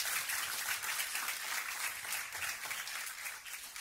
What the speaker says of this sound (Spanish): Denle ese fuerte Give aplauso him ahora that sí.